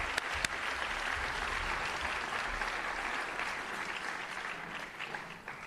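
A crowd at a scholarship evening applauds in a dense, even wash of clapping that holds steady throughout, with a couple of crisp nearby claps early on.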